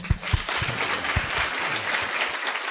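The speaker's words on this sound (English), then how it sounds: "Give him an applause" Audience applause after a talk on focus and distraction, steady dense clapping from a seated crowd, moderately loud and sustained for a few seconds with no speech over it.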